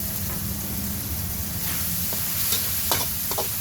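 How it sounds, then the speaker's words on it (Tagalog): Tomatoes, four of them with their seeds left in, sizzle and fry in a pan while being stirred, a steady close hiss broken by a few light scraping clicks of the utensil. "Kailangan lutuin mabuti yung kamatis guys."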